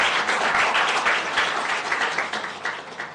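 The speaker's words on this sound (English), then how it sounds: "Let's give all the students a big round of applause" An audience at an inter-secondary schools debating competition applauds the students: a dense burst of many hands clapping, loud at first and gradually thinning and fading toward the end.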